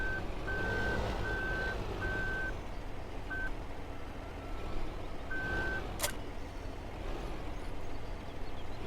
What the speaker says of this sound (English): I don't know if the reversing beepers will be on.